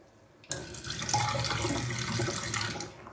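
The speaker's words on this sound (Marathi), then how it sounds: "2 ते 3 वेळा पाण्याने स्वच्छ धुवून घ्या." Running water streams steadily from a tap for a few seconds as red lentils are rinsed beneath it, starting abruptly.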